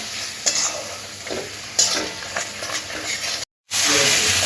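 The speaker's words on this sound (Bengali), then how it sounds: "মশলাটা খুব ভালো করে 2 থেকে 3 মিনিট কষে নেব, কাঁচা গন্ধটা যাতে চলে যায়" Spice masala for a Bengali-style chicken curry fries with a bright, steady sizzle while a spatula scrapes and stirs it in a few uneven strokes. The sound cuts out briefly near the end, then returns louder.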